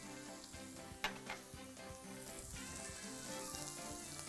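Sausage fries in a pan with red onion, a steady close crackling sizzle with small pops and stirring clatter, heard alone without talk.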